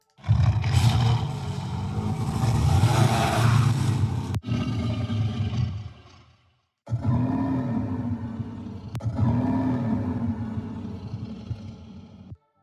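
A heavy, gritty idle growl from a video game enemy, deep and rumbling with plenty of low end, looping in long roaring swells that cut out briefly before resuming, loud and close.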